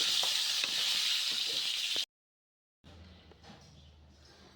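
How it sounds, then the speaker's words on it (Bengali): Potatoes and papaya with turmeric and salt sizzle steadily in hot oil with a bright hiss and occasional clinks. The sound drops out briefly, then returns quieter with some stirring. "এবার এটা আমি লাল লাল করে ভেজে নেব।"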